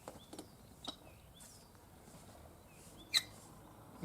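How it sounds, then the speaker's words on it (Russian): Faint, sparse bird chirps and short whistled calls over quiet outdoor hiss in a northern Russian village on a sunny day, with a couple of sharper clicks; distant and intermittent, a tractor far off. "Вдалеке трактор шумит, одновременно поют птички."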